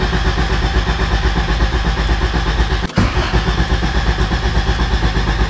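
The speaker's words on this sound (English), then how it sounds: "Quick little engine prime action because we had the entire turbo apart." A turbocharged Honda car engine catches and runs after priming, with a loud, steady pulsing idle, a brief dropout near the middle, then the same even running.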